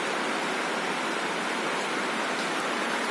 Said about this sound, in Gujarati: દોસ્તો આવી ગયો છે વરસાદ ફૂલ, જો ફૂલ વરસાદ ચાલુ થયો છે